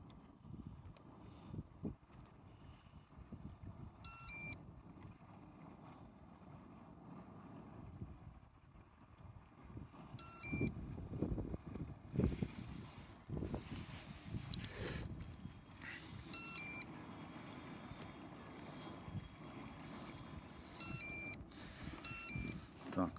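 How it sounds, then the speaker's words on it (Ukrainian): A Hydra autopilot boat sounds its low-battery warning, short clusters of high electronic beeps repeating every few seconds over wind and water rumble out on the water. "сигналізує, що низький заряд і спрацювало повернення при низькій напрузі"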